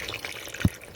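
Water poured into a pot of Moroccan couscous cooking with sweet potato and tomato, a brief low splash and trickle, near and quiet.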